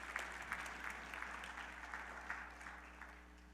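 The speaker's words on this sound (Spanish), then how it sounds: "Dale un aplauso al Señor" Church congregation applauding in a steady, sustained wash of many hands clapping, with a low hum underneath and no talk.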